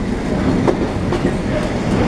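A London Underground Hammersmith and City line train departs from Farringdon, its wheels clicking over rail joints in a loud, steady, close rumble with no voices.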